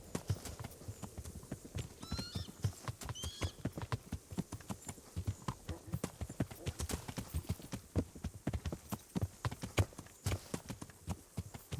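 An armored horse's hooves clop in a quick, steady walking rhythm in the medieval game Kingdom Come: Deliverance. The hoofbeats are soft and continuous, with faint incidental sounds around them.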